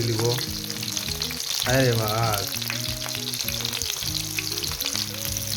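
Fish frying in hot oil for a Sylheti dish, a steady loud sizzle with oil spattering and popping throughout, plus one brief exclamation from a voice near the start.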